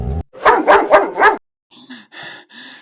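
A village dog barks four times in a quick, loud, close burst, then a higher, thinner run of yelps and whines follows after a short pause.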